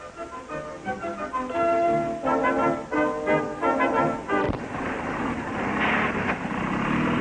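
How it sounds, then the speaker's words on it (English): Several vintage racing motorcycles, including AJS 500s, rev their engines at the 1958 Catalina Grand Prix start line. Overlapping buzzing engine notes rise and fall in loud bursts, heard through thin, old-film-quality sound. "the riders rev up their machine"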